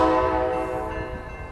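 Amtrak Coast Starlight passenger train led by an ALC-42 locomotive at Oakland Jack London Square station, a loud sustained horn-like tone over steady rumbling rail noise, fading slightly toward the end.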